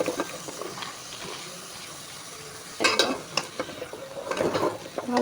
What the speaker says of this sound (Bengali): কষানো শেষ, তো আমি এখন লাউগুলো দিয়ে দিচ্ছি।